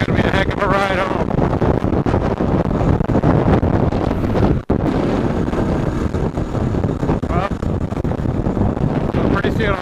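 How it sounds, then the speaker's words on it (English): Strong wind blasts across a mountaintop, buffeting the microphone with loud, rough roaring that barely lets up, with a brief dropout partway through. "it's still really windy up here."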